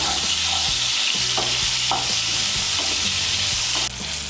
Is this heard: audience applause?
no